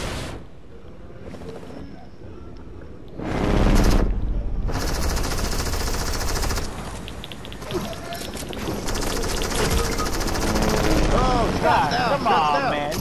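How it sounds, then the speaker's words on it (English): In Fortnite, a helicopter fires on the player: loud bursts of rapid machine-gun fire over a constant rotor and wind roar, with game effects layered throughout. "I got a helicopter shooting at me."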